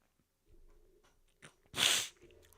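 A single loud, close sneeze bursts out after a moment of quiet breathing and small mouth noises.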